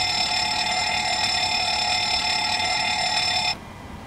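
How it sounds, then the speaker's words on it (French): An APU fire test alarm sounds in a PMDG 737-800 cockpit in Microsoft Flight Simulator, a loud continuous electronic bell-like ringing that holds steady for about three and a half seconds, then cuts off abruptly, leaving quiet cockpit hum. "Là, elle fait un APU fire test."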